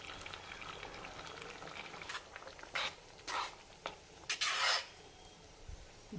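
Tamarind and garlic gravy simmering in a pot, giving a steady low bubbling hiss with several brief louder sputters and bursts near the end, close and alone without talk.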